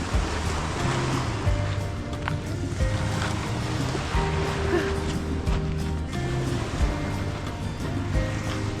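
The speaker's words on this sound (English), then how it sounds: "We're gonna be lulled to sleep by the waves." Waves lapping steadily along the shore of an Idaho lake beside a camped RV, a continuous wash of water with low rumbling underneath and faint boat-like tones, no voices.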